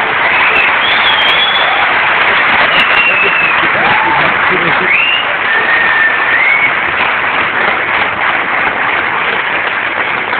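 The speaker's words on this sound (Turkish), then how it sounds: "Şimdi gerçekten bir alkıştı o." Sustained, dense audience applause fills a cinema hall during a film gala, loud and steady throughout, with a few faint cheers or whistles rising above the clapping.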